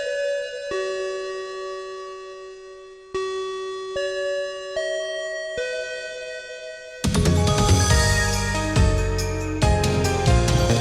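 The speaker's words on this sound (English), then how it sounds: "Let's ring that bell." A bell rings out to close a club meeting: a series of clear, sustained chime tones struck one after another, each ringing on and decaying, then giving way to a louder, fuller burst of music.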